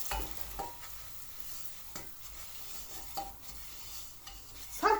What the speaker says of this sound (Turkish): Şöyle bir çay bardağı tarhanamı koyalım içine. İlk kez de tarhanamı çevireceğim.